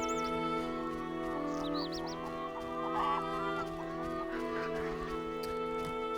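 Chickens cluck and squawk in the video game The Witcher, scattered calls rising over a steady ambient music bed at moderate loudness.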